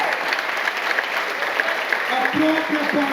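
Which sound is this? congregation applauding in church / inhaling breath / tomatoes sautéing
congregation applauding in church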